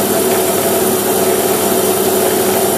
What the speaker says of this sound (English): So that's a 200 micron cut, running at 168 millimeters per minute, with a spindle speed of about 2500 RPM.